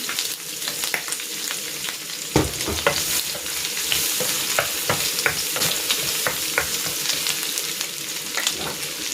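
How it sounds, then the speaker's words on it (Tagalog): Garlic sautéing in rendered pork fat for Bicol-style pork binagoongan, a steady close sizzle and spatter with repeated scraping stirs running throughout. "Ihigisa ko na dito itong bawang."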